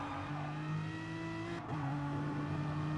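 Race cars in the video game GT Sport roar past with a loud, continuous engine drone, pitch dipping briefly mid-way before climbing again, with no voices.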